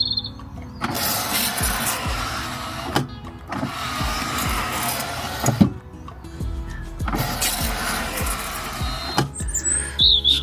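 A campervan's electric step runs out and back in three long motor-driven passes, each a loud grinding whir with a gritty rasp from dirt caught in the mechanism, close, with brief pauses and a clunk between runs.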